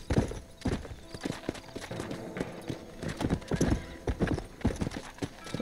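Hooves of a horse in the game Red Dead Redemption drum in a steady galloping rhythm, close and clear, with a brief whinny.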